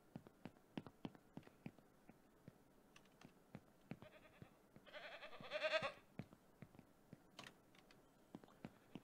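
Goats in the farming game Ranch Simulator bleat in a short burst midway, a few calls over steady clicking and tapping, with a fainter bleat later; moderately quiet throughout.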